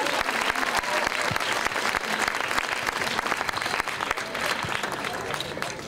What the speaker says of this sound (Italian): Un applausino per i ragazzi adesso